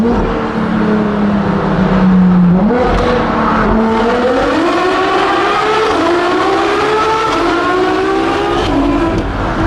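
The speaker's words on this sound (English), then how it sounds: "Straight pipe LaFerrari, a Ferrari V12, going fully on it." A straight-piped Ferrari LaFerrari V12 at full throttle roars loudly and continuously, its pitch climbing steadily through the gears with brief dips at each shift, close and unbroken by talk.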